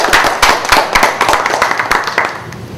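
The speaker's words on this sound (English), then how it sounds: "I would like a big round of applause for both of them" An audience at an entrepreneurship event in a Chandigarh guest house claps, with loud, dense applause made of many distinct sharp hand claps that carry on steadily throughout, with no talking.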